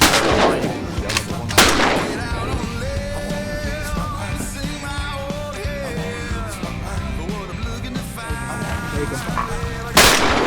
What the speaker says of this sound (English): the shooting begins